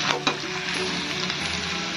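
A turnip vegetable mixture sizzles in a pan as it is stirred, with a couple of sharp scraping knocks at the start over a continuous soft frying hiss.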